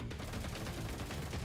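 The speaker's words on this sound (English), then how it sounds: "Gunfire erupts." Assault rifle fire in the video game GFL2: Exilium rattles out as one loud, dense, unbroken burst of rapid shots filling the whole moment, with no voices.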